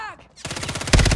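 Rapid video-game gunfire erupts after a brief pause, a dense burst of automatic shots that grows louder toward the end, close and harsh.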